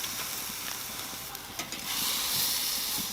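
Smoked tri tip sizzling over hickory fire on a Weber kettle grill as it is flipped, a steady bright hiss with small crackles and pops, growing louder toward the end.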